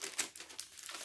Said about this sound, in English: Man, that's a sticky sticker.